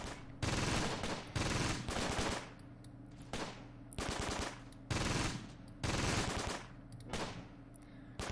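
Automatic gunfire rattles in the Close Combat war game, with an anti-tank gun in action as six or seven loud, sharp bursts of about half a second to a second each, separated by short quieter gaps.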